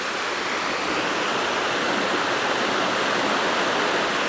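Kongo Falls pours into a small pit, a steady, dense roar of rushing water filling the air with unbroken broadband noise, loud and close with no voices.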